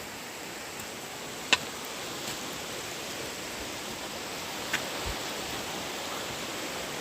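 Flowing water runs beside deep snow high in the mountains at about 15,210 ft, making an even, continuous rushing hiss with a couple of small isolated ticks.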